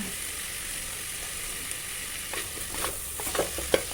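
Vegetable rice fries in a pan with a steady soft sizzle, and a few scraping stirs grow louder toward the end; no voices.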